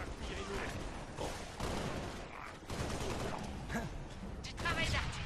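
Gunfire in the video game Halo Reach, bursts of automatic shots and blasts recurring throughout amid game sounds, with a voice talking under the action.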